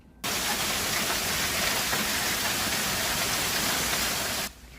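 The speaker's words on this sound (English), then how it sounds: "That's the sound of massive hail beating up communities in the Carolinas last weekend." Massive hail pounding down on communities during a severe spring storm in the Carolinas, a dense, steady roar of impacts that holds loud and unbroken for about four seconds before cutting off, with no voices.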